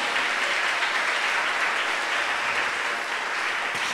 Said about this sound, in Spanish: Dale un aplauso a Él